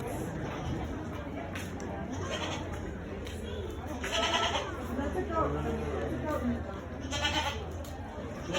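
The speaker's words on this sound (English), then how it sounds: "Little goats." Goats bleating in repeated calls over a busy crowd, with people chattering nearby.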